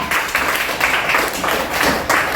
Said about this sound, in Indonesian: Berikan tepuk tangan untuk Dewayu ya